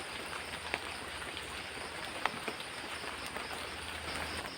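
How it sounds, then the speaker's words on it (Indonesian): Heavy rain pours steadily at night outdoors at a campsite, a dense continuous hiss of drops with a couple of sharp isolated drips or taps standing out, no voices. "Karena ini hujan"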